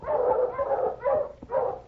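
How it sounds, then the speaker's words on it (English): Team of husky sled dogs in the snowy Yukon barking in repeated bursts, close and loud, with a brief lull between the barks. "He stopped as he heard the dog team."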